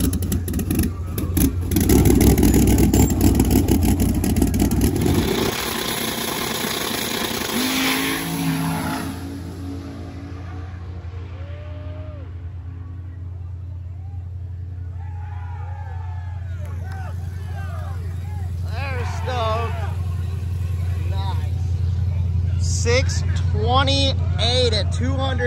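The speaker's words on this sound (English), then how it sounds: "And we have the other diesel truck over in the far lane" A diesel truck launches at a drag race during Sick Week, its loud, close engine roar filling the opening seconds before it fades into the distance, leaving crowd babble and nearby voices.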